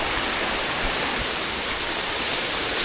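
Close, continuous rush of hot spring water pouring along the Mount Gede trail, a loud unbroken waterfall-like hiss with no voices heard.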